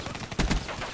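Kuda submachine gun firing rapidly in Black Ops 3, a fast burst of gunshots peaking in the middle with two loud close reports over steady game noise.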